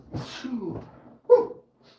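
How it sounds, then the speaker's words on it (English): A single sharp sneeze bursts out after a breathy intake, close and loud, followed by a brief quiet. "I am going to sneeze."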